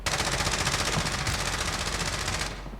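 Rapid automatic gunfire in the video game Warzone, a loud continuous burst of shots that runs steadily for over two seconds and then cuts off.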